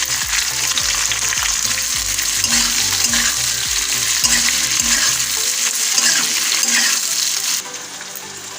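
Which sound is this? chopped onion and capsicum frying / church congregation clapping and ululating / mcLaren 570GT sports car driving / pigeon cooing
chopped onion and capsicum frying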